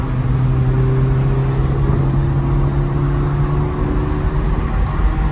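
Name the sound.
Mondial t Coupe engine sound while driving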